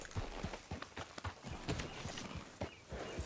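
Horse hooves clip-clop in a steady, fairly quick rhythm at moderate distance, the individual hoofbeats soft and evenly spaced throughout the short stretch.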